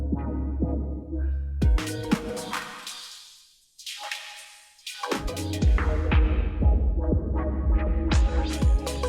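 Dance music from a Pioneer DDJ-FLX4 DJ controller swells through a reverb filter effect, the sound thinning and washing out into a sweeping tail before the full beat drops back in loudly.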